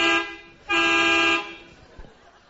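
Two sustained car horn blasts sound close and loud at an event in Shymkent, a short toot followed by a longer steady honk, then quieter background noise.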